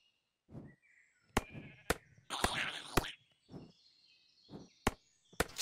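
Minecraft sheep in the RLCraft modpack bleat several times between sharp, loud chopping hits as they are farmed for wool, close and alone with no talking.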